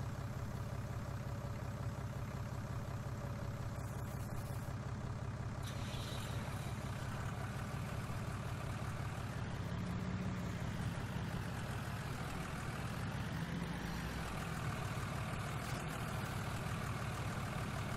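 A tractor engine in a farming video game runs steadily, with a dense low drone and some mid-range clatter. It holds a constant, fairly loud level throughout, with no talking.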